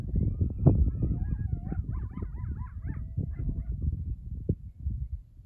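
Coyotes yip and howl in a wavering chorus at moderate distance outdoors, their rising and falling wails layered over a steady low rumble of wind or nearby noise.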